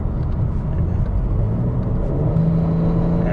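A 2021 BMW M4 Competition (G82) in sport mode revs hard, its engine rumble rising steadily into a rising whine, loud and close with no talk over it.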